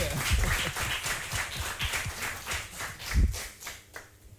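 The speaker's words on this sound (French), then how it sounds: "on l'applaudit" Brief scattered clapping from a small quiz show audience, a few seconds of uneven hand claps that fade out.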